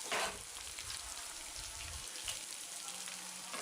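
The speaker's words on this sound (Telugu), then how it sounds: "తర్వాత కరివేపాకును కూడా వేసుకుని వేపుకోవాలి" Curry leaves sizzling in hot oil in a pan with potato and cauliflower, a soft steady crackle and hiss with a brief louder burst at the start, close and fairly quiet.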